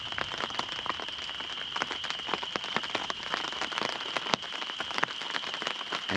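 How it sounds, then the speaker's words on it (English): Steady rain from a thunderstorm pattering on surfaces at a campsite, dense irregular drops with occasional sharper taps, over a constant high insect-like whine; no voices. "And the rain is picking up."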